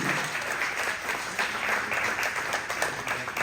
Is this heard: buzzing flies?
no